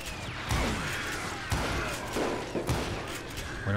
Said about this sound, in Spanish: Acá estamos usando las dos pistolas